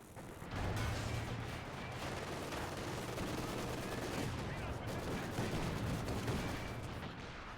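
Mortar fire in Company of Heroes 2 rumbles as a dense, continuous barrage of booms and crackling impacts, loud and sustained throughout the battle.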